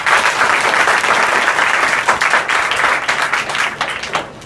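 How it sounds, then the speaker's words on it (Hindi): A school audience gives a lecturer a loud, steady round of applause at an educational programme in Azamgarh. Dense clapping runs evenly and close throughout, easing slightly near the end, with no talk over it. "तो सर के लिए एक बार जोरदार ताली।"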